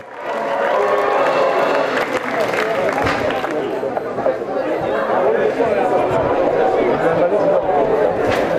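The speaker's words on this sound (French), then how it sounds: "La musique et les applaudissements du public la raccompagnaient au Tauril." A crowd at a cow bullfighting arena in Remoulins applauds and cheers, sustained loud clapping mingled with chatter, voices and music.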